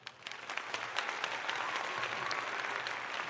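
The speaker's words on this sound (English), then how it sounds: "Here comes the applause." Audience applause swells quickly and settles into a steady, moderately loud wash of many hands clapping, with a few sharper individual claps near the start.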